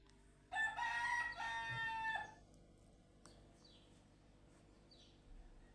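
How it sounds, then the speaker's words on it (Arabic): A neighbour's rooster crows once, a single loud drawn-out cock-a-doodle-doo from a short distance, followed by quiet kitchen room tone. "بعتذر بقى على صوت الديك اللي مش سايبنا في حالنا ده عند الجيران"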